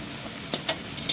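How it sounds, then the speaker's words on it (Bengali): Vegetables with ginger, garlic and green chilli lightly frying in a pan for chicken stew, a soft steady sizzle broken by a few brief stirring scrapes. "এটা হালকা ভেজে নেবো"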